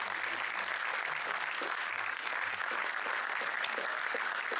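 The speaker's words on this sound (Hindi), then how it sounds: "तालियां लगातार बजती रहनी चाहिए." Thick, continuous clapping from a packed theatre audience fills nearly five seconds at the close of a Hindi stage play, steady and close with no pauses, while faint low voices murmur beneath it.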